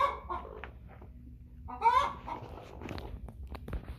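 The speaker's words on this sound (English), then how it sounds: "As soon as I opened the gate, the broody started clucking." A broody American Bresse hen clucks close by in short, irregular bursts, with a few louder squawking calls mixed in and quiet pauses between them.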